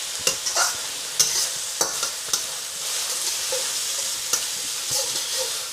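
Chicken chow mein with dark soy sauce being stirred and tossed in a sizzling wok, with steady frying hiss and a series of sharp scraping clacks from the utensil, close and clear with no talking.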